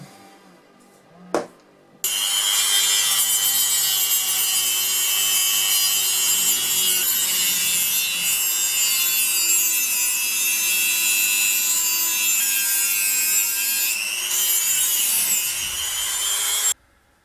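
A power tool grinds the teeth off an airsoft gun piston, starting after a sharp knock and running as a loud, steady high whine for about fifteen seconds before cutting off.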